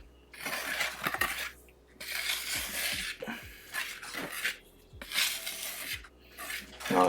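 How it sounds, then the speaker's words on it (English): Meringue powder and sugar being lightly whisked in a bowl, giving bursts of scraping and clinking of the whisk against the bowl, separated by short quiet pauses, close and fairly soft. "So I'm just gonna lightly whisk this to get my meringue powder"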